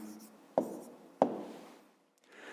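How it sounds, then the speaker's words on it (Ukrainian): A pen writes out a math answer by hand in a few short strokes, with two sharp taps as the tip meets the paper, close and quiet. "Пишемо відповідь."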